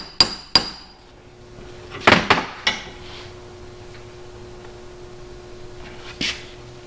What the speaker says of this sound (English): you can take a hammer and kind of ping the metal a little bit